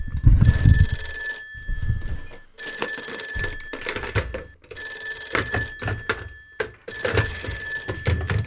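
A telephone bell rings in four loud, evenly spaced bursts, each a sustained metallic trill of about one and a half seconds with short pauses between them.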